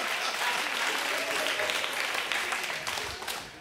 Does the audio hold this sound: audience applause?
yes